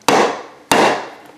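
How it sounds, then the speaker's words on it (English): A container of ground pigment is whacked down on a table twice, about half a second apart, each sharp wooden knock ringing and fading before the next. "I'm gonna whack this on the table to get the dry bits off the bottom."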